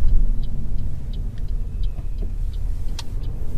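A car drives through a residential area in Edmonton toward an intersection, its steady low engine and road rumble filling the cabin with faint rhythmic ticking, likely the turn signal, and no talk.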